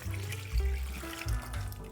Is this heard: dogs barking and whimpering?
no